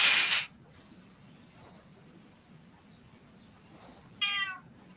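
A cat meows once, a short clear tonal call near the end, after a sharp loud burst at the start and quiet background noise in between.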